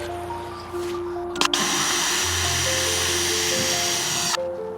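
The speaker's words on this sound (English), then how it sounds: "Drill there." A power drill runs steadily into wooden floor joists, a loud continuous high whine lasting about three seconds after a brief start, close by and alone.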